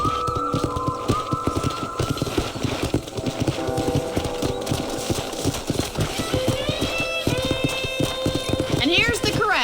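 Horse hooves in Red Dead Redemption clip-clop in a steady, brisk rhythm close by, with a horse whinnying and chimes sounding in the game, while voices talk over the hoofbeats.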